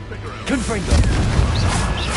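A voice speaks briefly, then the Confringo explosive spell from the video game Hogwarts Legacy bursts into a heavy, booming crash with a rumbling low tail.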